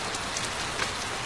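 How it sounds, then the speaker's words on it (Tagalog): Heavy rain pours steadily onto a surface in a Korean movie scene, a dense close hiss of drops with no talk, constant for the whole short stretch. "Aba, lakas sa ulan ah."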